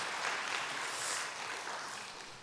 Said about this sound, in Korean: 여러분 박수로 환영해 주시고 맞아주시면 감사하겠습니다.